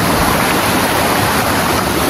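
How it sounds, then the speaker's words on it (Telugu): Cold mountain water rushes down a waterfall from the hillside near Vashisht, Manali. It is a loud, close, unbroken roar of flowing and splashing water, with no voices. "వాటర్ ఫ్లో వస్తున్నాయి అనమాట పైన కొండ మీద నుంచి"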